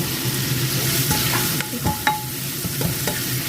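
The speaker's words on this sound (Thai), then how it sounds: "วันนี้เราผัดไส้นิดหน่อยนะคะ" Vegetable and minced pork filling for spring rolls with glass noodles is stir-fried in a pan, a steady sizzle broken by a few sharp scrapes and clacks of the utensil.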